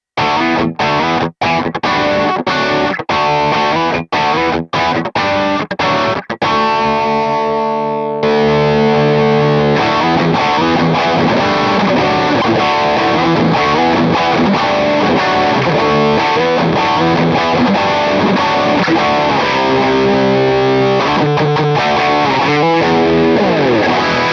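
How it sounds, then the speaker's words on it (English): Electric guitar through a Wampler Moxie overdrive pedal plays loud and continuous, a few sharp strummed stabs opening into a sustained, gritty riff with thick distortion throughout. "stack the Moxie against other overdrive pedals on your pedal board to create some seriously interesting tones"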